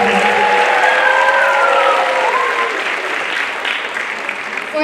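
Sustained audience applause fills a school hall after a junior high school play, loud and steady throughout, with a few faint whistles or voices rising above the clapping.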